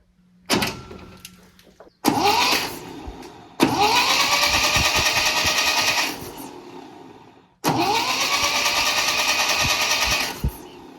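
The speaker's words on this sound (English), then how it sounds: "Runs pretty good with that starter with no spark plugs in, at least." An MGB engine with its spark plugs removed spins on the starter in several bursts, a fast, even, whirring churn that rises quickly and holds steady, loud and close, with gaps between tries.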